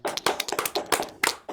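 Applause follows a music performance as a small audience claps in a quick, uneven patter of distinct nearby hand claps, brief and lively.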